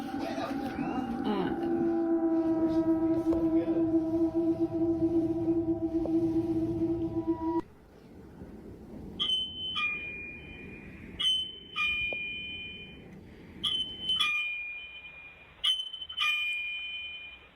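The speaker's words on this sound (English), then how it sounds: "I started getting a notification that the doorbell in my kids' room upstairs is going off." A doorbell sounds upstairs in a kids' bedroom, first as a long sustained electronic tone, then as a series of repeated two-note chimes spaced a second or two apart, heard from a distance in a quiet house.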